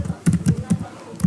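Quick bursts of typing on a computer keyboard in a word processor, several close crisp keystrokes in an uneven rhythm, with no talking.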